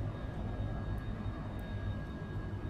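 An airplane engine droning in flight in a flight simulator game, a constant, loud, even roar with a faint steady whine above it and no voices.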